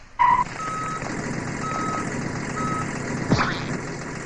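A big eight-wheel truck backs up as a sound effect, its reversing alarm beeping at a slow, even rhythm over a low engine hum, with a short burst of air-brake hiss near the end.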